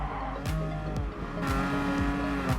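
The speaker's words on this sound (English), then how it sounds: "Just make room for the sweet, awesome, white and gold Enzo Ferrari" White and gold Enzo Ferrari racing in Gran Turismo Sport, its engine note rising and dropping through repeated gear shifts, close and loud, with no one talking.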